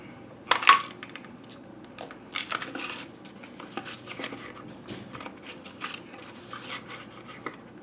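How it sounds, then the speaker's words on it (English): A handheld tab punch cuts two paper planner tabs, giving a sharp crunching snap up close followed by several lighter clicks and rustles of paper being handled. "now I'm going to take this tab punch and I'm going to cut out 2 tabs"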